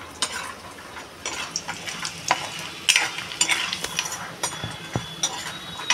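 Lentil dumplings (bori) frying in hot oil, a steady close sizzle broken by repeated stirring scrapes and light clinks of a utensil against the pan, with no talking.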